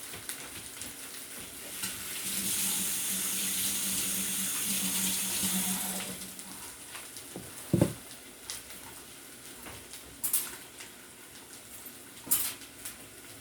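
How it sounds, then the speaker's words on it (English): A kitchen sink tap runs steadily for a few seconds while hands are washed during breakfast cooking, followed by a few clinks and knocks of dishes. "Just going to wash my hands."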